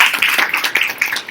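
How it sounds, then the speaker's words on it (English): A small group at a teacher training session claps quickly and unevenly for about a second, close and fairly loud. "Give a round of applause to him."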